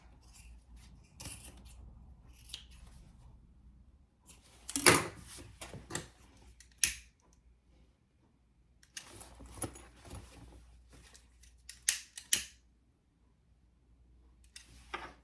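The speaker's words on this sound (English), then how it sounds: "cut off my excess zipper." Scissors snip off excess zipper tape from a handmade tote bag, several sharp close clicks and crunches in separate bursts with quiet gaps between.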